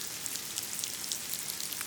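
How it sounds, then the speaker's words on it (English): Rain background ambience, a steady dense patter of raindrops spread evenly throughout, soft and continuous with no voices. "Rain background is used to set the overall tone of a scene."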